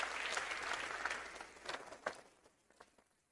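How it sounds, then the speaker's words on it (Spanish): Applause at a session of Venezuela's National Assembly, a dense burst of clapping that starts strong and gradually thins and fades over a few seconds, with a few scattered claps at the end. "Delcy Rodríguez Gómez, para quien pido un aplauso"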